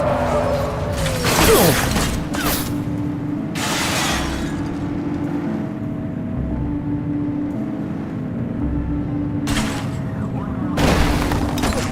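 Gunfire in the police video game The Precinct: several sharp, loud shots crack out at irregular intervals over a steady vehicle engine drone, with voices talking in between.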